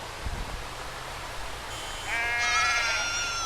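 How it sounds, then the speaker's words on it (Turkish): A mountain goat bleats in the Bus World video game, a wavering nasal cry rising over quiet road ambience in the last second and a half, loud and close, with no talk over it. "Dağ keçisi."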